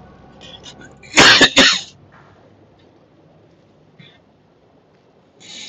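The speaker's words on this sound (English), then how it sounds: "I don't know why I'm coughing so much." A person gives a close, loud burst of two or three harsh coughs, followed by quiet room tone and a faint throat sound near the end.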